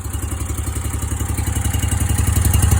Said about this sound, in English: I'm gonna fire her up here in a second